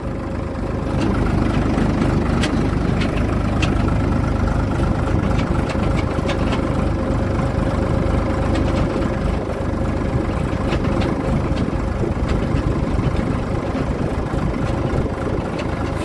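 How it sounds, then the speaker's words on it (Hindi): Ford tractor engine running steadily in top gear, a loud, even, low diesel throb close up, with no talk over it. "टॉप में तो जम के चलता है ट्रैक्टर।"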